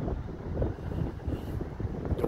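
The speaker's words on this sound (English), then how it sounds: "The wind is going left to right." Wind blowing across an outdoor golf course during a junior golf tournament, a low, gusty buffeting rush on the microphone, moderately loud and uneven, with no voices.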